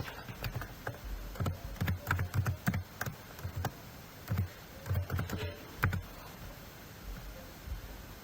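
Keys clatter on a computer keyboard while Python code is typed, coming in quick irregular bursts of clicks with short pauses between them, close and moderately quiet, with no talking.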